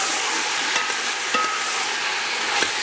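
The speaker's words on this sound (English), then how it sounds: "So you keep stirring it around for it to saute" A curry powder mixture being stirred and sautéed in a pan gives a steady, close sizzle with soft scraping strokes, each one a faint scrape against the continuous frying hiss.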